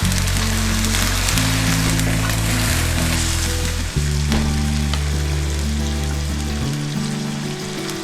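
Chopped onion frying in a hot pan, alongside ginger-garlic paste for a green chickpea chicken curry, giving a loud, steady close sizzle that runs unbroken throughout with no talk.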